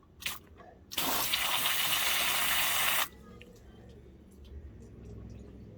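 Pressurised water blasts through the soft-top drain of a BMW convertible in one loud, steady rush lasting about two seconds, then cuts off abruptly, leaving quieter dripping and draining noise close by.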